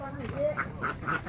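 Solo-breed laying ducks quack in a pen, three or four short nasal calls in close succession, close by and moderately loud, with a person talking underneath.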